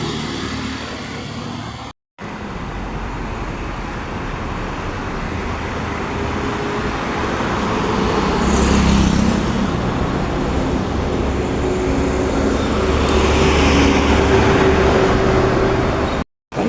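Vehicles passing on a road near Ernakulam, a steady traffic roar that swells as something closer goes by midway, then eases back to a constant background wash.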